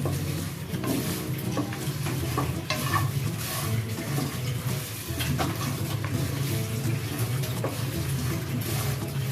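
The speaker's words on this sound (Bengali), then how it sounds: "গরমের মধ্যে আপনারা মশলাগুলো নাড়া দিতে হবে" Spices are stirred in a hot pan for kalo bhuna, a dense, continuous sizzle with scraping and clattering stirring strokes throughout, close and fairly loud.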